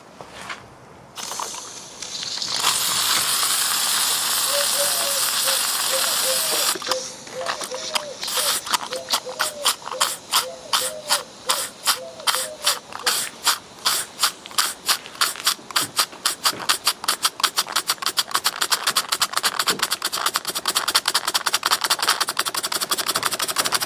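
A Cotswold Heritage Cirrus beam engine running on steam, rhythmic hissing chuffs that start slow and speed up into a steady, fast beat, close and fairly loud with a mechanical clatter underneath.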